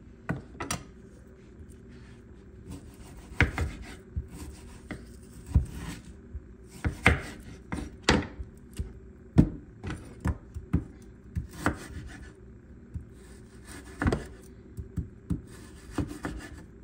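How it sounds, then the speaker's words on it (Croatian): A knife cuts raw beef into thin strips on a board in irregular sharp strikes, some quick pairs and some spaced out, with quiet handling sounds between. "Sad ćemo meso da isječemo."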